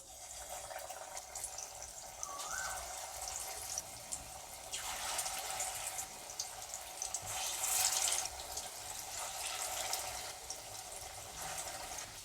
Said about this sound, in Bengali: এবারে বড়াগুলো তেলের মধ্যে দিয়ে দেব।